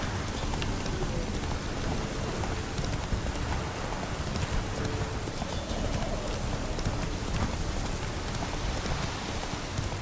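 Steady rain falls in The Witcher 3: Wild Hunt, a dense, continuous hiss of drops pattering on surfaces with faint clopping mixed in, unbroken throughout.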